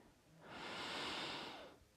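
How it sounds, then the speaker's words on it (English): One slow, audible inhale during a yoga flow class: a soft breathy hiss that swells for about a second and then fades, close and quiet with no talk. "Breathing in"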